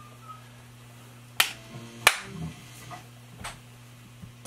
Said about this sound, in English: Give a quick clap.